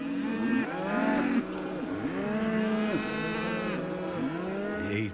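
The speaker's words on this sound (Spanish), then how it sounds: "Se encontró con una vaca que obviamente estaba muy alterada" A distressed, agitated cow moos repeatedly and loudly at close range, with long drawn-out calls rising and falling in pitch in a steady series and no talk.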